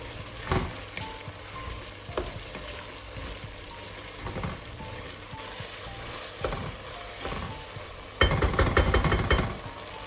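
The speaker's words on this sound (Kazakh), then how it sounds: "Тағы да жақсы араластырып 10 минуттай қуырамын." Half-moon sliced onions fry in a pan for Uyghur fried tsomian lagman, with a steady sizzle, periodic scrapes of stirring and a louder burst of frying and clatter near the end; no one speaks.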